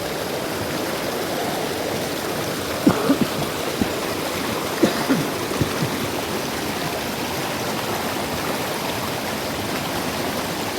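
A river stream flows with a steady, broad rushing of water, loud and constant throughout, with a few faint knocks partway through and no talk.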